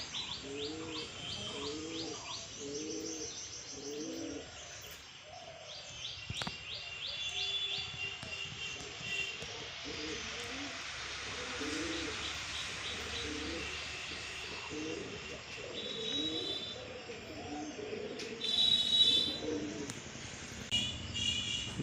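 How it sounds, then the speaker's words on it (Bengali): Close, steady cooing from pet Madras and Giribaz pigeons in rhythmic low rolling bursts, mixed with sharp chirps and twittering from other birds above, growing slightly busier toward the end. "এটা ম্যাড্রাস পায়রা আছে আর একটা গিরিবাজ পায়রা আছে"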